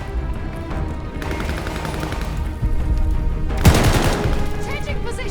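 Sustained automatic gunfire from a machine gun nest in the Call of Duty: Vanguard video game, dense bursts continuing under battle ambience, with a louder burst of shots near the end.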